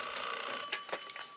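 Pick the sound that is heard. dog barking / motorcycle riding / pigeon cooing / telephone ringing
telephone ringing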